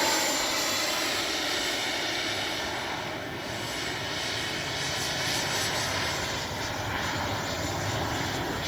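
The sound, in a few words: RC F-15 twin 64mm jet flying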